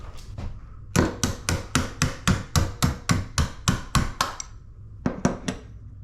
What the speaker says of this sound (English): I ended up getting it out with a punch, a hammer, and a pair of pliers.